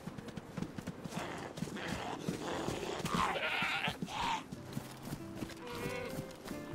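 DayZ video game farm-animal noises as a zombie kills a sheep, with hooves clopping and a few bleats and animal calls mixed in, with a brief high chime near the end; no one speaks.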